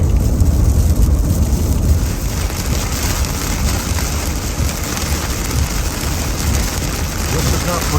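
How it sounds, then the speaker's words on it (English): Heavy rain pours steadily, a dense, loud hiss and drumming on a surface that continues without a break. "This is not pretend. This is really raining."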